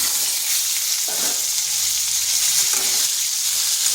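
Diced potato and carrot fry in a pan on medium heat, a loud, continuous sizzling hiss with a couple of soft stirring scrapes and no talking.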